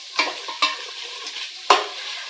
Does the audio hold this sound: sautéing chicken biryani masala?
yes